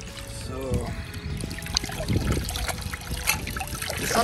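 Water trickles and drips from a soaked cleaning cloth inside a camper van, the wet splashing and dribbling running steadily at close range, with talk heard around it.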